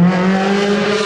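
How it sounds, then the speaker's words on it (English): A Ferrari 360 Challenge Stradale V8 revs hard, a loud, close, sustained high-pitched howl with no voices over it. "This chap is revving to announce his arrival."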